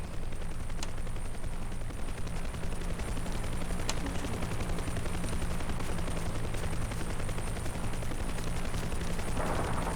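A helicopter in a Vietnam War video game, its rotor thrumming steadily and fairly loud throughout, with a couple of sharp gunfire-like cracks over the drone.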